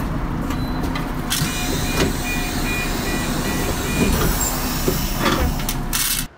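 Interior noise inside a blue marshrutka minibus: a steady engine and road rumble runs throughout with rattles and clunks, a few brief sharper knocks, and a faint voice or two in the cabin.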